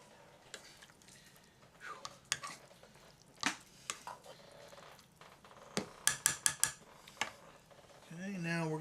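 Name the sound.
stirring shrimp Alfredo sauce in a pan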